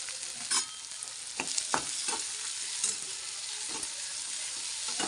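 Onion sautéing in a pan for a fenugreek leaf curry, a bright steady sizzle with a few scraping strokes of a spatula as it is stirred, close up.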